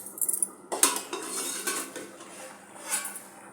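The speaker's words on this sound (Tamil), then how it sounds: "மூடி ஓப்பன் பண்ணி பார்க்கலாம்." A metal lid clanks as it is lifted off a cooking pot of simmering radish kolambu, with bright clattering of metal near the start, then a softer rattle and bubbling as the pot keeps boiling.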